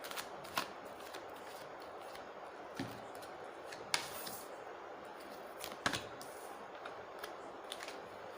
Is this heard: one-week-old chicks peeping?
no